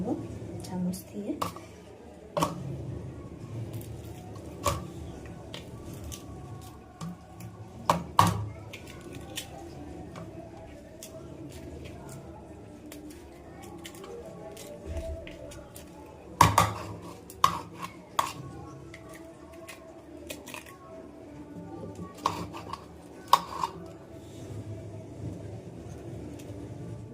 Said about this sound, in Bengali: তো এটা আমি ভালো করে ছাড়িয়ে নেব চামচ দিয়ে।